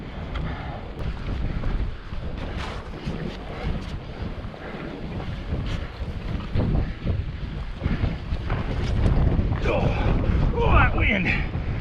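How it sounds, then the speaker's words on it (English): Strong winter wind in Devil's Canyon buffets the microphone in a constant rumbling roar, gusting louder toward the end, with a person talking faintly underneath. "this is going to be crazy windy too."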